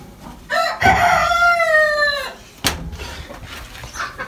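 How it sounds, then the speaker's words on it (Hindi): A chicken on a farm where a hen is brooding fancy eggs gives a loud, close crow lasting over a second, followed by a sharp knock and softer clucking sounds. "ये देखें ये मुर्गी बैठी हुई है फैंसी अंडों पर।"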